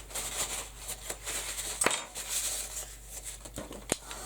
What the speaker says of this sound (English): I'm just going to quickly clean my spatula